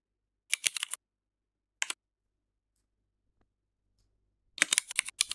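Short rapid bursts of computer keyboard typing while JavaScript code is written, one cluster near the start, a single brief tap, then a longer run of keystrokes after a pause; close and clear with no talk.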